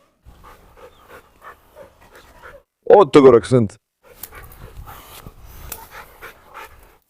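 A Cane Corso or Rottweiler panting softly in quick, rhythmic breaths nearby, with a brief burst of someone speaking in the middle.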